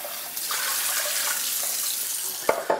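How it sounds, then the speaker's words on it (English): Tap water runs steadily into a kitchen sink, rinsing a sugar and salt cure off marinated prawns, with a couple of splashy clunks near the end. "Now I'm just going to rinse off the sugar and salt mix."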